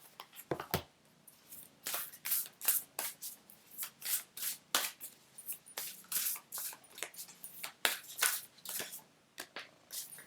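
Oracle cards are shuffled steadily by hand, drawing an ancestors card: a close, rhythmic series of papery swishes and slaps, roughly one every half second, carrying on for the whole stretch with no voice over them.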